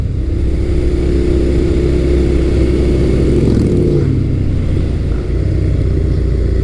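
A 2003-2008 second-generation Suzuki SV650 motorcycle accelerates with a loud, close engine drone. The pitch climbs and then shifts around the gear change partway through.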